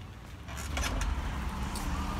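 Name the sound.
Bolt ride-hailing car arriving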